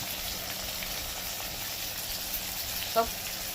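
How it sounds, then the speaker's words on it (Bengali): Chopped tomatoes and a small piece of ginger frying in a pan, giving a steady, even sizzle close up, with one brief clink of a utensil and no talking. "দুখানা টমেটো দিয়েছি এটাকে একটু ভেজে নেবো"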